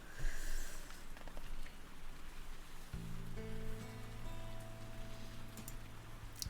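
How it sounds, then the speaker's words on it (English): Steady rain patters on a surface throughout, joined after a few seconds by soft sustained tones from Animal Crossing New Horizons background music playing under it. "This is 1 hour of relaxing Animal Crossing New Horizons music plus rain sounds"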